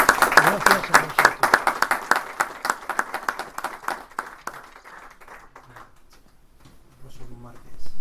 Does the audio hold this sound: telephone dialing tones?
no